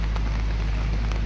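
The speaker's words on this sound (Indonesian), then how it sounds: "hujan kembali terjadi di daerah Tapanuli Selatan, khususnya di daerah Garoga ini" Steady rain falls near the Garoga river in South Tapanuli, a dense, continuous patter with no one speaking.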